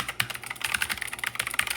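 Rapid keystrokes on a Black Shark gaming keyboard, a brisk run of close, crisp clicks and clacks with uneven rhythm and a few harder taps, heard alone without talk.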